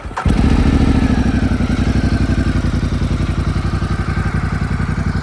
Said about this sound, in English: Let's fire her up.